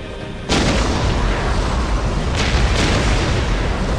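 Ork artillery in Warhammer 40,000 Dawn of War opens with a sudden heavy boom, then rolling rumble and further blasts layered into a dense, loud barrage that carries on throughout.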